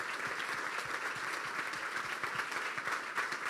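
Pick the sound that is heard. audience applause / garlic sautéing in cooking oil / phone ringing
audience applause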